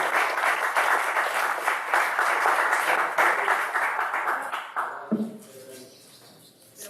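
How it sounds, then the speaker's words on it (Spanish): Loud, dense applause from an audience at a museography and exhibition production workshop, many hands clapping steadily for about five seconds before tapering off into quiet room sound. "un aplauso muy grande"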